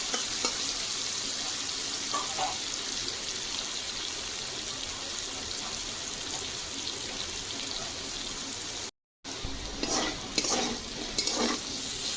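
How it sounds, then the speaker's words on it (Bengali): Jackfruit seeds fry in hot mustard oil with a continuous crackling sizzle and occasional stirring scrapes, a brief silent gap, then livelier stirring and sputtering. "সর্ষের তেল দিচ্ছি তেল গরম হয়ে গেছে কাঁঠাল বীজ দিয়ে দেবো"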